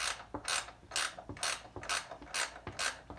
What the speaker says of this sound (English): now take off the nut.